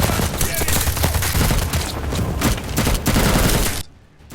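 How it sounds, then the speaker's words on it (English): Heavy gunfire in a battle between soldiers and a Russian squad, with dense overlapping bursts of shots crackling continuously for several seconds before cutting off abruptly. "they come under heavy gunfire from a squad of Russians"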